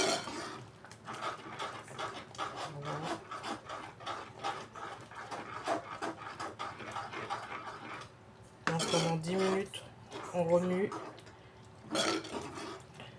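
Onions for a cream of onion soup are stirred in a pot over low heat, with repeated spoon scrapes and clinks against the metal; a voice talks over parts of it.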